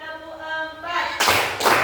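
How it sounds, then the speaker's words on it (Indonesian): Hand claps at a prayer gathering come as single sharp claps, two loud ones close together near the end, while a voice counts over them. "Jadi, tepuk 1, tepuk 2, tepuk 3,"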